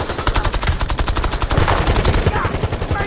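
Rapid automatic gunfire from a Call of Duty Black Ops 7 multiplayer match, loud and continuous bursts of shots with steady rhythmic cracks throughout, some game voice sounds mixed underneath.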